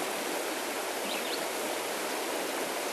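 A river rushes and flows steadily, a dense, unbroken wash of water noise that stays loud and close with no pauses or other sounds.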